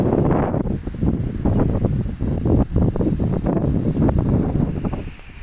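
Strong wind at Suan Son Beach, Hua Hin, Thailand, buffets the microphone in continuous low rumbling gusts, loud and unbroken throughout, with no voices.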